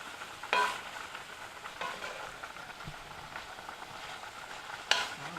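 Shrimp with seasoning frying in a hot pan over medium-high heat for Cajun shrimp alfredo, a soft steady sizzle broken by a few sharp scraping stirs, fairly quiet, no talking.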